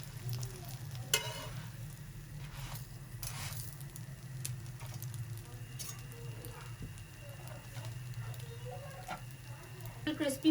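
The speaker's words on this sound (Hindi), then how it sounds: "फुल क्रिस्पी सा पराठा बना रहा है" A paratha crisping on a hot tawa gives a steady, low frying sizzle throughout, with occasional soft scraping and tapping clicks from turning it, and faint voice-like sounds in the background.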